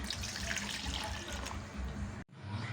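Water pours steadily onto tamarind in a continuous splashing rush, briefly cut off near the end before resuming, close by and with no talking.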